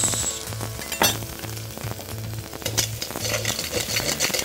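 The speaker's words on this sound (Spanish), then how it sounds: "Oigan eso, ahí está nuestro sonido preferido de la parrilla" Ginger and garlic sizzle in soybean oil on a grill, a moderate frying hiss broken by a few clinks and scrapes of a utensil, with a low rhythmic hum running underneath.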